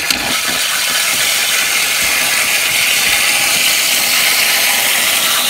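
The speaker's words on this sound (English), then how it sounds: "we're now good to turn on the aspirator pump" A laboratory aspirator pump runs continuously for several seconds as a steady, loud hiss and mechanical rattle, with no talk over it.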